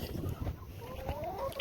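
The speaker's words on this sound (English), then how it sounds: "Chickens!" Chickens clucking faintly outdoors on a cold, windy day, soft short calls over wind noise.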